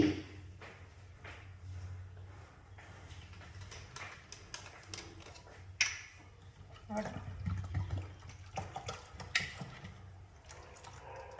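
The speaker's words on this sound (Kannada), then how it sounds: "ಇದಕ್ಕೆ ಸಾಧ್ಯವಾದಷ್ಟು ನೀರಂಗೆ ಮಾಡ್ಕೋಬೇಕು ನೋಡಿ ನನಗೆ ನೀರು ಹಾಕ್ತಾಯಿದ್ದೀನಿ ಇನ್ನೂ ನೀರು ಹಾಕ್ಬೇಕು ಇದಕ್ಕೆ" Water is poured and stirred into finely ground neer dosa batter, giving soft splashes and sloshing with clinks from the vessel, faint and close, while a person talks over it.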